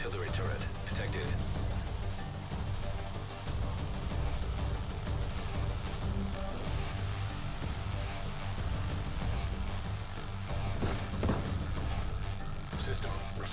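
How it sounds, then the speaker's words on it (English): A rogue artillery turret fires in The Division 2 video game, producing a dense barrage of repeated sharp blasts over a continuous rumbling battle backdrop, loud and close throughout. "Rogue artillery turret detected."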